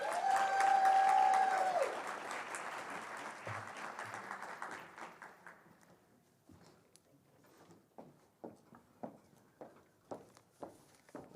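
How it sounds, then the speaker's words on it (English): Audience applause for a speaker at a graduation ceremony, a loud sustained wash of clapping that fades over several seconds, followed by scattered footsteps or taps in a quieter room. "Belgraves a round of applause"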